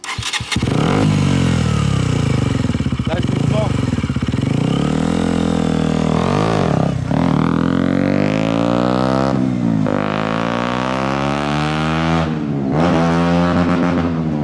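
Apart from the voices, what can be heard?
motorcycle engine riding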